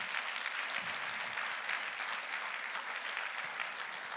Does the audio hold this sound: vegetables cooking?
no